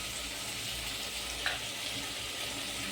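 Potato and onion pieces sauté with ginger and garam masala in a pan, giving a continuous soft, even sizzle with faint stirring, heard close and without talk.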